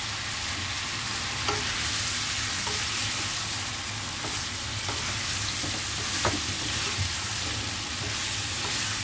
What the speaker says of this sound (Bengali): চিকেনটা শুধু আমি ভেজেই নেব এই কারি পাতার সাথে